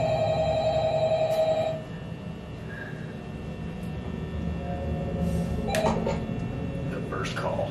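An old-style telephone bell rings in Five Nights at Freddy's, a steady repeating ring heard close up during the first couple of seconds, then a quieter game room tone with a few clicks and brief sounds.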